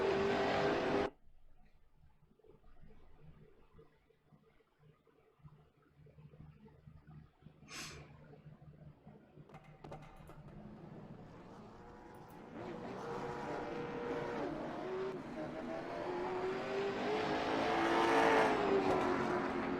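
Late model race cars race around a track at a season opener. The clip starts quiet with a brief sharp noise, then the engine roar swells steadily and grows loud as the cars pass close.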